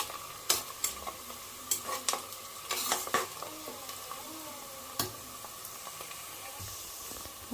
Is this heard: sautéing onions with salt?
yes